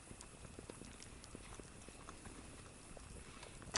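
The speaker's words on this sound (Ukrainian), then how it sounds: "Все гарно кипить." Soft, steady bubbling and popping of fish soup boiling in a pot, faint and continuous with irregular little blips.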